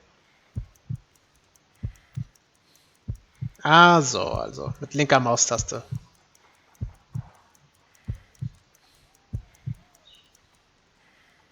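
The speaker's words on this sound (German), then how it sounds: "I need to concentrate and count the heartbeats." Slow, regular heartbeat thumps from the Sherlock Holmes: Crimes and Punishments video game, a weak pulse of about 50 beats per minute, each beat a soft low double thud, with someone talking briefly in the middle.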